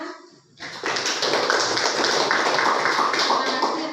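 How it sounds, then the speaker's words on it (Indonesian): Group applause in a classroom or presentation session, dense steady clapping that starts abruptly after a short pause and continues loudly to the end. "tepuk tangan"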